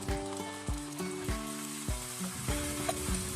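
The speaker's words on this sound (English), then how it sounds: "Next, add the ground chili and stir fry." Ground chili stir fried in a hot pan for a chicken, fish cake, fish ball and prawn dish, with a steady sizzle and repeated spatula scrapes and knocks in an irregular rhythm.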